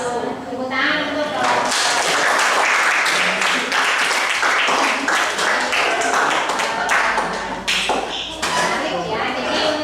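Classroom applause after a group presentation, a dense burst of many hands clapping that fills the room and runs steadily for several seconds, with voices mixed in.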